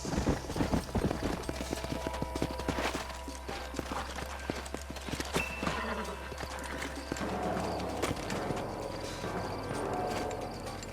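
Horses walking in the video game Red Dead Redemption, with a steady clip-clop of hooves on hard ground, fairly close, with a brief whinny and some background bustle.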